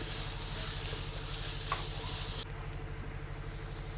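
Sliced onions and green chillies frying in a pan until golden, giving a steady, dense sizzle with light stirring that drops in intensity partway through.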